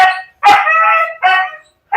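A Husky barks loudly and close by, three or four sharp, drawn-out barks with short silent gaps between them.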